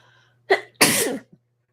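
One loud, close sneeze from a person: a short sharp intake followed by an explosive burst, then a faint small sound after, with no talking.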